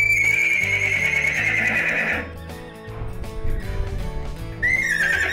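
A rescued horse, a colt of about a year, neighs in a long, loud, high whinny that trails off, followed after a brief rustling pause by the start of another whinny.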